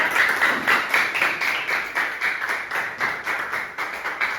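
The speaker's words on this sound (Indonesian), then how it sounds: "Tepuk tangan lagi sekali untuk kelompok" A crowd applauding steadily, many hands clapping at once in a dense, continuous patter that rises and falls slightly throughout.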